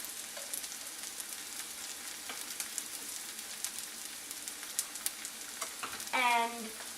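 Sliced garlic frying in a pan with softened onions, a steady quiet sizzle with faint stirring clicks, then a brief louder scrape near the end.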